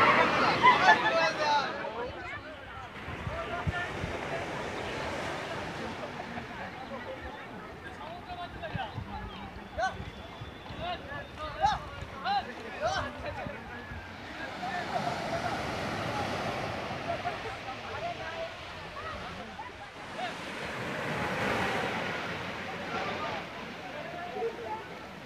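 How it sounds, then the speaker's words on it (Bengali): Ocean surf rolling in at Digha beach under an overcast sky after Cyclone Jawad, a steady wash of waves swelling and receding beneath a busy crowd of beachgoers chattering throughout. "আকাশ মেঘাচ্ছন্ন এবং ঢেউ খুব সুন্দর।"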